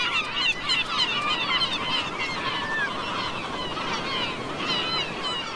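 A seabird colony calls continuously, with many overlapping honking and squealing cries forming a dense, loud chorus over steady background noise.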